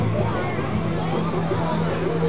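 A huge crowd gathered on the Brisbane riverfront on a Riverfire night fills the air with a continuous, close murmur of many overlapping voices, with no single speaker standing out.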